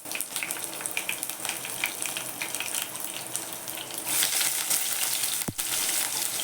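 Garlic, cumin and mustard seeds crackle and sizzle steadily in hot oil, a dense, close hiss that swells louder partway through and carries on without any voices.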